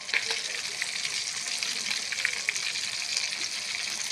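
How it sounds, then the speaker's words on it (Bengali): Hilsa fish pieces fry lightly in hot oil in a pan, giving a constant close, bright sizzle with small crackles throughout and no voices. "কাঁচকলা দিয়ে ইলিশ মাছ দিয়ে রান্না করব। তো একদম সিম্পলভাবে রান্না করব। মাছটা ভেজে নিব আগে।"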